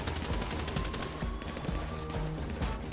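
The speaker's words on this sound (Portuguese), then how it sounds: "Olha o tiro que vão comendo na bunda" Rapid video game gunfire rattles in quick repeated bursts during a shootout, fairly faint and continuous with a steady background hum.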